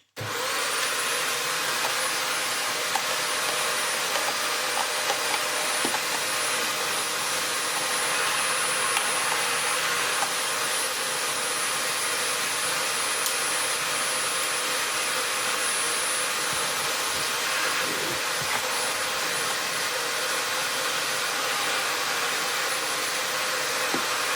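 A vacuum cleaner runs steadily and loudly the whole time, a continuous whooshing roar with a high motor whine on top and no pauses.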